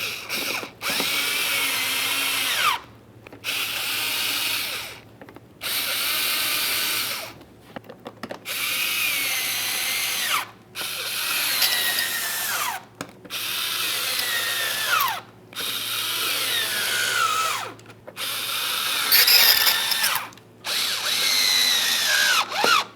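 A power drill whirs in repeated bursts, revving up and winding down as mounting screws are driven into a 2006-2012 Ford Fusion front bumper cover, with short pauses between each run.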